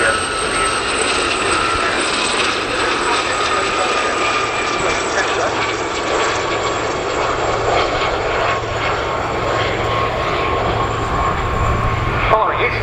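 Gazelle helicopters fly a display at RAF Cosford Airshow 2024, their engines and rotors giving a loud, sustained whine and roar throughout, with a public-address commentator talking over the aircraft noise.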